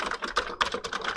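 Keys clatter on the laptop keyboard of a PLA machine that is dirty but in good physical shape, with quick, uneven bursts of close, crisp clicks and short pauses and no voices.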